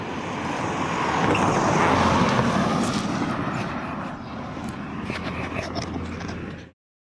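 A bus pulls up to a stop in Arundel amid steady road traffic: a loud, continuous broadband rumble that swells over the first two seconds, then holds steady before cutting off abruptly.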